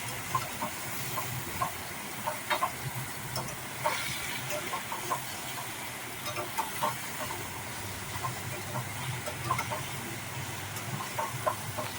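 A soft, continuous sizzle of chicken frying in a pan, with faint crackles and pops scattered throughout and no talking.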